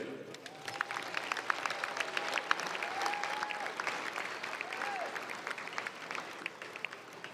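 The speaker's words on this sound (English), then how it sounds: "let's do one more round of applause for our seniors this year" A gym crowd at a boys' varsity high school basketball game applauds the seniors on senior night with sustained clapping, a few squeaky shoe sounds and whistle-like tones scattered through.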